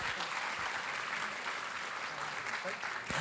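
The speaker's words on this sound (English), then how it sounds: "Ladies and gentlemen, please also give them a big round of applause." Conference audience giving a big round of applause at a forum opening ceremony, a continuous even roar of many hands clapping at steady volume, with a voice faintly audible beneath.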